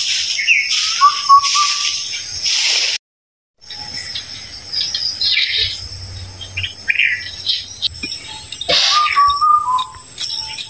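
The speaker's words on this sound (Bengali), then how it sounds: "সীমা সকালবেলা কত সুন্দর কোকিল পাখি ডাকতেছে।" A koel calls in the morning in a village setting, giving a few clear rising whistled notes near the start and again later, over a constant shrill drone of insects.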